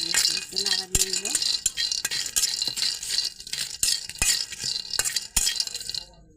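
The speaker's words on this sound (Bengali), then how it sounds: "বাদাম দেওয়া হয়ে গেছে, একটু নাড়া দিয়ে দেবো।" Cardamom, pepper, cinnamon, bay leaf and nuts stirred in a pan with a spoon, with quick scraping and light clinking against the metal. The stirring runs close and fairly busy, under a steady background hiss.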